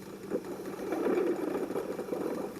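Machine pulleys running close by, a steady low mechanical hum with faint rattling and knocking through it.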